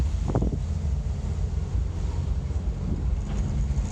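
A 1974 Volkswagen T2 Double Cab pulls away with a low, steady engine rumble, largely buried under heavy wind buffeting on the microphone.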